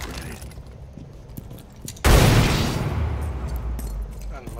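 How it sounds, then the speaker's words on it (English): An EMP grenade detonates in Rainbow Six Siege during a Bank team deathmatch, a sudden loud blast that opens into a long, dense crackling wash over gameplay background noise. "Tossing EMP grenade"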